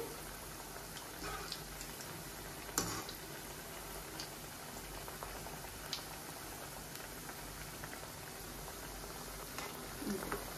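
Aloo bread rolls deep-frying in hot oil, a dense continuous bubbling hiss with scattered faint ticks and pops, steady and close throughout.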